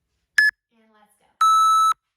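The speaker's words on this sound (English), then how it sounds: "you're gonna hear that timer count down" A workout interval timer beeping during a bodyweight exercise session: a short high beep, a brief pause with faint murmuring, then one long, loud, steady tone.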